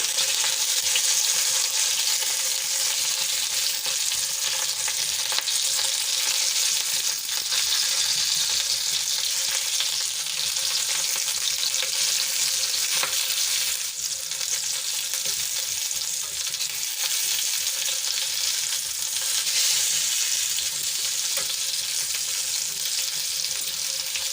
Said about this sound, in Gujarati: ધીમા તાપે આપણે એને શેકાવા દઈશું થોડી વાર થોડી વારે આપણે એને ફેરવતા રહેવાનું